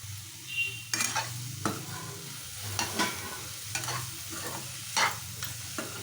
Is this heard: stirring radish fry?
yes